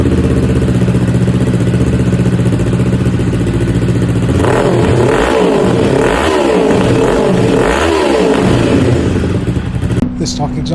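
Kawasaki Ninja 500 motorcycle fitted with a JFG Racing slip-on exhaust, idling steadily then blipped through three sharp revs around the middle, loud and close, before dropping back to a lumpy idle.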